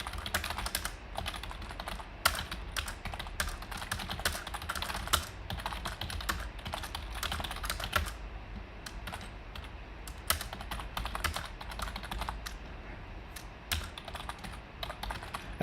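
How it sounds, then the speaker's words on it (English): Fast, irregular typing on a computer keyboard clatters on without a break, the key clicks close and sharp, with no voices. "let me type it out"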